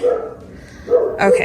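A pet dog indoors at home gives a couple of quick barks close by, right after a brief spoken word.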